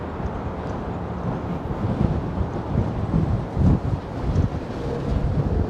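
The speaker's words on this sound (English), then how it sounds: "Which direction is the wind blowing? Straight to my face, Adam." Wind buffeting the microphone on a Manhattan waterfront pier, Pier 26 on the Hudson, a loud continuous low rumble with gusty surges throughout.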